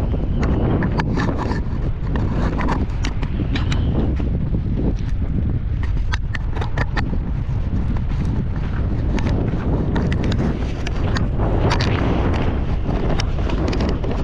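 Strong wind buffets the microphone continuously on a sandy shore, a loud rumbling roar with gusty crackles throughout and no clear voices.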